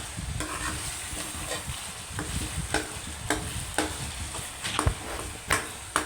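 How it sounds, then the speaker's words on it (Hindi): A spoon stirs spicy chicken qeema with tomatoes and chilies in a pan, giving soft, irregular scrapes and clinks over a quiet, steady sizzle, close by with no talking. "इसमें चम्मच को बराबर हिलाते रहें और यकजान कर लें।"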